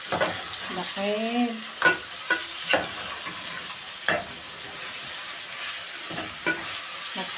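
Minced meat crackles steadily in a pan while a utensil scrapes and stirs it in repeated strokes. A short spoken word breaks in early on.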